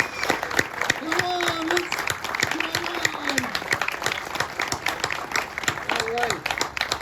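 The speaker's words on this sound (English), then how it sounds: "Let's have another round of applause for these students and their fantastic teachers." Applause rises from a graduation audience for students and their teachers, a run of irregular, individually distinct claps close to the listener, while people talk and call out briefly over the clapping.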